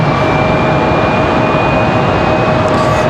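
A Breeze Airways airliner at Raleigh-Durham airport at night produces a loud, constant engine drone with a steady high whine layered on top. It continues evenly throughout, with no speech.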